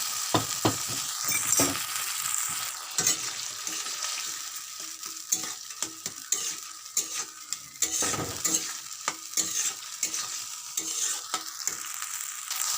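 Oil sizzles steadily in a pan while a spoon scrapes and stirs a thick spice paste for a fish-head and radish dish, with frequent metallic clinks and scraping strokes throughout.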